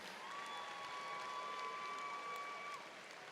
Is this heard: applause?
yes